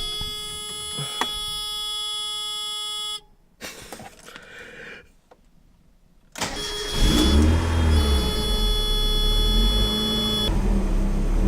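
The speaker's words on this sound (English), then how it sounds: "It starts up just nicely." A Mazda MX-5 engine cranks, catches and starts, then settles into a steady idle that is loud and close, with a repeating warning beep running through part of the clip.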